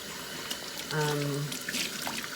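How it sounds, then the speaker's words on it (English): A glass vessel is rinsed under a running tap, giving a steady hiss of splashing water with a short tonal hum partway through. "So the reason I'm rinsing it for so long is because it's not heated up"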